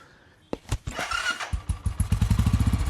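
A motorcycle engine starts after a moment of quiet, a few irregular coughs settling into a quick, steady, close putter that grows more regular.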